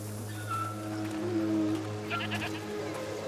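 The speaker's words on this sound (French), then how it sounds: "Des chèvres!" Goats bleat in the video game A Plague Tale Requiem, a few short wavering calls close by over a low steady ambient hum, with no voices.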